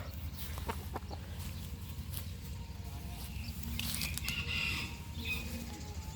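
Chickens squawk and cluck in a noisy scuffle with fluttering wings, set against a steady low background hum outdoors.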